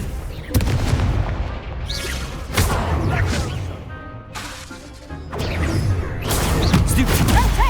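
Confringo blasting curse explosions during a Hogwarts Legacy duel, a series of loud crashing, booming impacts in irregular bursts with short quieter gaps, cluttered with game effects.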